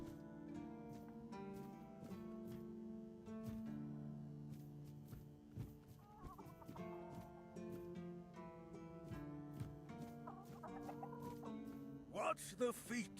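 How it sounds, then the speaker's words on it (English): Chickens in the video game Tainted Grail cluck in short bursts over background music, with a sharper flurry of clucks near the end and no talking. "Chickens."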